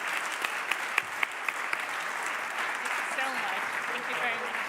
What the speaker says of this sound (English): why don't you give our panel a big applause?